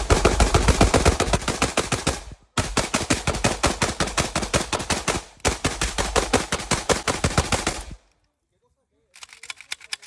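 Bursts of rapid automatic gunfire from a Riley Defense RAK74 rifle firing 7.62x39 ammunition, three long loud strings of shots with brief pauses, then a short final burst after a moment of quiet.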